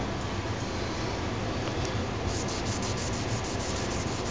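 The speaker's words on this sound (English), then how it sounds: "You just apply the conditioner to the neck." A rag rubs neck conditioner onto a guitar neck with the strings removed, a dense continuous swishing that stays close and even, with no talking.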